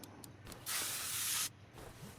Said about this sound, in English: After we spray it, of course, can't forget the spray.